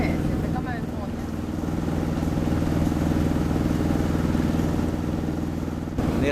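A sailboat motoring out into the Sound on the way to George Town, Bahamas: its engine holds a steady, loud, droning hum with a throbbing low rumble throughout, and water noise runs beneath it.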